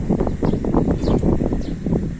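Strong wind blowing at Rawalpindi railway station, a steady broadband rush with gusty swells and no clear voices, close and fairly loud throughout.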